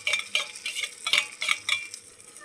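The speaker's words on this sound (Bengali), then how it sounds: "ভালো করে এটাকে ভেজে নেবে।" Ginger garlic paste frying with onions in a pan, several brisk scraping stirs of a metal spatula in quick succession over a light sizzle.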